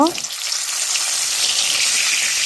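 Loud, dense sizzling of eggplant deep-frying in hot oil, a steady crackling hiss that fills the whole stretch without pause.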